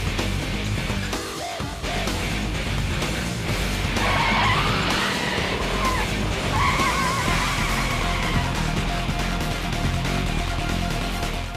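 Toyota Corolla Altis 2014 pushed hard by professional race drivers at a speedway in Coimbatore, with tires squealing through skids over a steady, loud engine roar that continues throughout.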